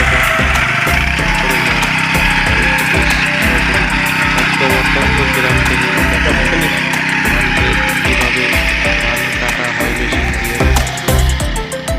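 A petrol-powered rice harvesting machine cuts paddy in a village field, its small engine running loud and continuous with a busy, rattling cutting clatter throughout, no pause in the drone.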